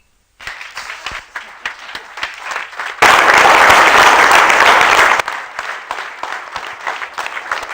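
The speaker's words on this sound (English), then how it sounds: "now a big round of applause once again." Audience at a summit event at The Oberoi claps, scattered claps building into a loud, dense burst of applause for a couple of seconds, then thinning back to lighter clapping.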